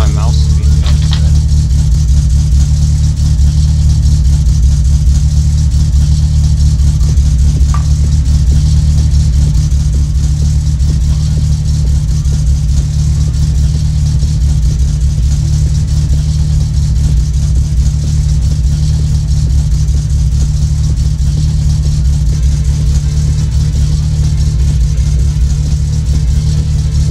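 A car engine idles with a slight surge in the video game My Summer Car, holding a steady, loud low drone for the whole stretch.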